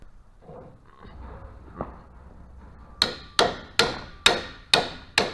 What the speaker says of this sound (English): Probably need a hammer as well, actually. Let me get a hammer.